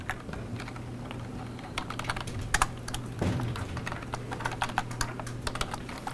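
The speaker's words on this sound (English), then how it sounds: "Press and hold Control, and then hit N." Typing on a computer keyboard while working in the vim editor, a quick, irregular run of close key clicks and taps over a low steady hum, with no voices.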